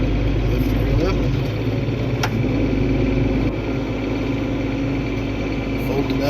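A John Deere 8760 tractor's diesel engine runs steadily close by with a deep, constant low rumble and a slight rise in pitch, filling the whole stretch without talk.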